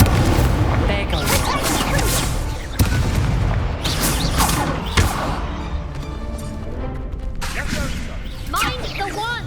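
An Incendio fire spell in Hogwarts Legacy bursts out in loud whooshing, crackling blasts mixed with booming combat effects and a sustained rumbling roar, while voices speak over the clash.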